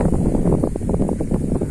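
Wind at the Puncak Origon hilltop viewpoint near Takengon, Bener Meriah, a loud, steady, rumbling buffet across the microphone with no talking.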